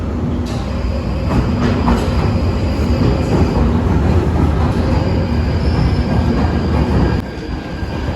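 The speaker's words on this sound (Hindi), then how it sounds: "क्योंकि यहाँ बड़ा शोर होता है ट्रेन का" An underground train roars loudly nearby in the UK, with rumbling wheels and faint metallic squeals, easing slightly near the end.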